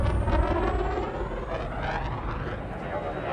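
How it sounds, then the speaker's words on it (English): A jet aircraft engine in a video game gives a steady, loud broadband roar with a faint descending whine, continuous throughout with no talk. "and you see just underneath the jet."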